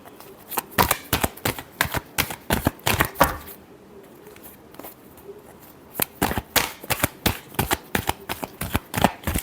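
A deck of tarot cards is shuffled up close in quick, crisp bursts of riffling and slapping, pausing for a few seconds midway before a final round of brisk shuffles.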